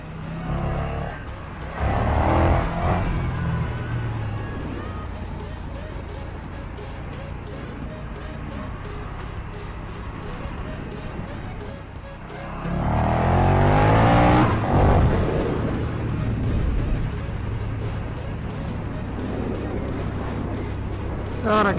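A KTM Superduke 1290R motorcycle revs up and accelerates in two loud surges separated by a steadier engine note, recorded close by. A rider's voice is heard at times under the engine noise.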